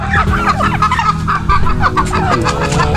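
Several chickens cluck and chatter continuously, close and fairly loud, with overlapping calls and a busy farmyard background where ducks and turkeys are also kept.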